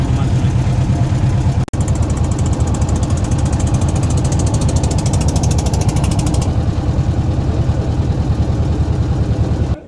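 A steady, loud boat engine drones at idle throughout on the river at Jaflong, Sylhet, with a brief dip near the start; faint voices may sit beneath the rumble.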